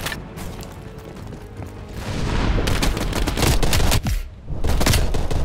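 Rapid gunfire in Call of Duty Black Ops Cold War: dense, loud bursts of shots build into a continuous barrage with booms, briefly dropping out before resuming.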